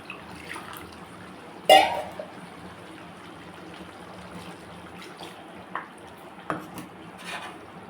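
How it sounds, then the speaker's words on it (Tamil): Faint kitchen sounds while making chicken curry: a sharp clink of a mixer jar being washed, a few soft knocks, and water trickling and swirling in the background. "ஜாரை கழுவிட்டு கொஞ்சம் தண்ணி ஊற்றிக்கலாம்."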